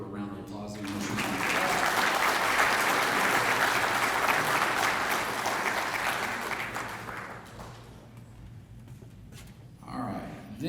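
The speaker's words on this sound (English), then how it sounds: "So let's give her a round of applause." At the 54th NIA National Show award presentations in Logan, Utah, an audience applauds an award winner with loud, dense clapping that holds for several seconds, then fades as a voice begins speaking.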